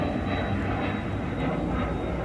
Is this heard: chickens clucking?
no